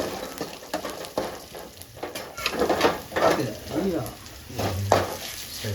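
Masala with squeezed tomato pulp sizzles in a pan for a village-style fish curry, stirred with scraping spoon strokes, close and moderately loud, while a voice talks quietly now and then.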